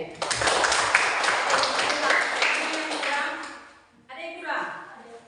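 A classroom audience applauds a student group, producing about four seconds of dense, crackling clapping that fades out before a voice starts speaking.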